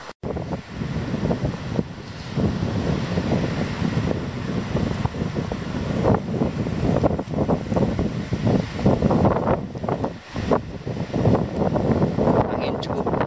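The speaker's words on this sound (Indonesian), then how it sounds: "angin cukup kencang berhembus." Strong wind blows across the open Lincing savanna on Mount Arjuno under cloudy skies, a loud, gusty roar buffeting the microphone continuously with surging bursts.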